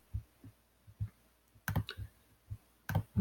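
Computer mouse clicks at a desk while copying a web link, a series of soft, close, irregular taps with occasional louder double clicks and no speech.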